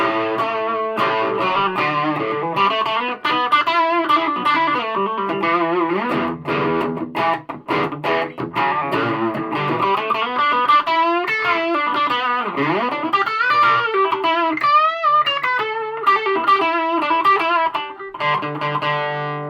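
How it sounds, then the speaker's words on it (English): A distorted electric guitar plays through a Laney HCM30R amp, with sustained crunchy chords and melodic lines, loud and continuous with no voices. "That's a totally usable distortion sound."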